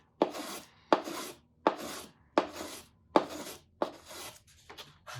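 A hand tool cuts a pocket into the wooden kerfing of a steel-string guitar side, making about eight short rasping strokes in an even rhythm, close and quiet, with no talk.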